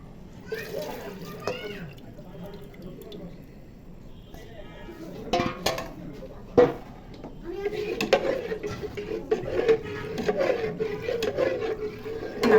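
Halwa mixture for Bombay Karachi halwa is stirred in a pan, with close scraping and rubbing scrapes, some wet sloshing and a few sharper knocks, alongside a speaking voice.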